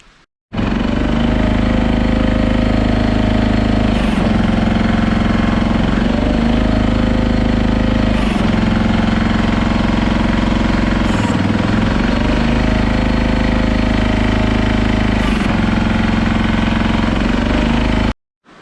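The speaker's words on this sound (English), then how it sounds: "I'm going to run the machine up, run it with nothing in the jaw" Jaw crusher machine running empty with nothing in the jaw, a loud continuous mechanical drone with a rhythmic dip every few seconds, close and steady from start to finish.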